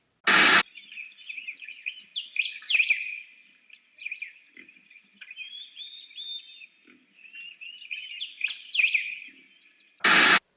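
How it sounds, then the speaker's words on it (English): Many birds chirp and trill continuously outdoors, overlapping calls of varying loudness over a quiet background, bracketed at start and end by brief loud bursts of noise. "who knew there'd be so many birds?"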